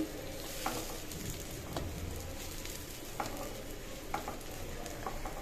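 Sweet pumpkin pieces frying in oil give a steady, continuous sizzle, with a few soft clinks of a utensil stirring or lifting them out near the pan and no voices.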